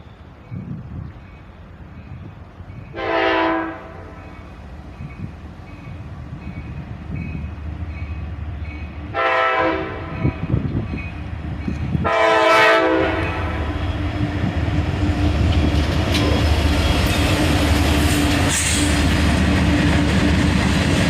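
A manifest freight train led by an SD70Mac locomotive, followed by an ES40DC and six-axle flat cars, rumbles past close by while three loud horn blasts sound, the last longest, over a growing roar of rolling cars.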